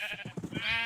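A Minecraft sheep in Galacticraft gives a short, faint bleat, heard once and alone.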